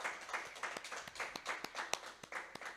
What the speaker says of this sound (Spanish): un aplauso también a todos, unos a otros, por haber venido esta mañana